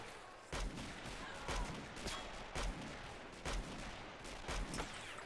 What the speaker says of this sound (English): nice shot there from the British artillery